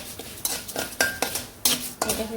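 Lentils frying lightly in a pan for a village-style meal, with a utensil scraping and stirring in several distinct strokes over a soft background sizzle, close and fairly loud.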